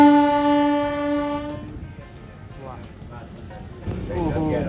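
A train sounds a long, loud horn at a closed railway crossing beside a station, then the low rumble of the passing cars carries on while a person talks over it.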